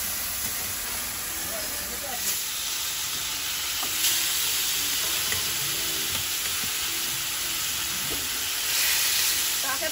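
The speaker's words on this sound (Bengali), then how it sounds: "মাছগুলো ভাজতে দিয়ে দেবো।" Fish frying in hot oil in a frying pan, a steady sizzling hiss with a few soft utensil stirs and clicks, with a faint voice in the background.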